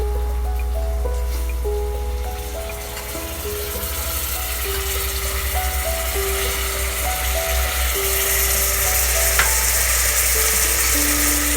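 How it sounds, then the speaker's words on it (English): Cut brinjals sizzling in a pan for Parsi dhansak, a steady crackling fry hiss with occasional stirring, close and continuous under faint background tones. "Now we add the brinjals which we have cut and we have kept."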